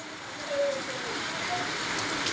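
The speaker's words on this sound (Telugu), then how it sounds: "ముందుకు పడుతుందండి వాన." Steady rain falls outdoors near a house, a continuous even hiss of drops that stays moderately loud throughout with no clear breaks.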